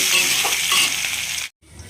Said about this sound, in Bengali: তিনটে বড় বড় কুচনো পেঁয়াজ দিয়ে লো ফ্লেমে তিন চার মিনিটের মতো